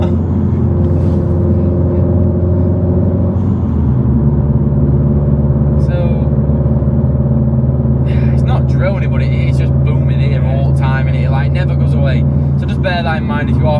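A Subaru WRX STI with a loud aftermarket exhaust rumbles steadily at idle, a deep continuous drone with a slight shift partway through, while people talk over it.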